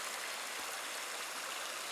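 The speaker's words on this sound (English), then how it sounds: "So I just crossed a creek" A creek in a winter forest flows with a steady, even rush of water that goes on without a break and sounds fairly soft and a little distant.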